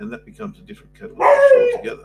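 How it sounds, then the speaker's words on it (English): A dog named Angus barks in a short burst of yips behind someone talking, the barks loud and close for about a second. "That's my dog Angus."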